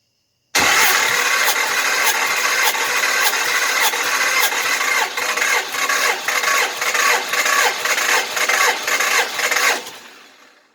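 A 318 V8 cranks over steadily during a compression test on cylinder number 5, a loud continuous starter churn with regular rhythmic pulses for about nine seconds before it stops abruptly.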